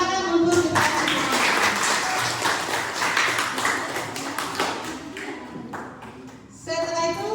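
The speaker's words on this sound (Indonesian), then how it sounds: "Oke, tepuk tangan untuk kita semua." A school chemistry class applauding, steady clapping from many students for several seconds that fades near the end, with a teacher's voice before and after.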